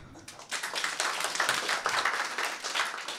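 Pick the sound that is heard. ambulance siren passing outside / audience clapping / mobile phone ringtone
audience clapping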